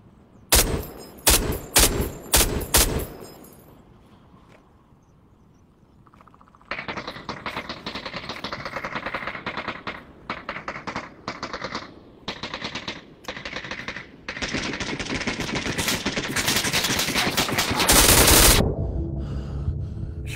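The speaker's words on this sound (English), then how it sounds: "Shooting right through it." Rapid automatic gunfire and single shots from the VR shooter game Onward, loud bursts and sustained rattling fire with brief pauses between volleys, no talking.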